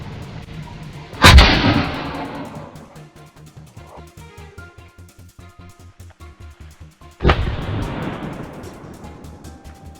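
Two loud gunshots fired at wild boars on farmland, the first near the start and the second about six seconds later, each with a long rolling echo.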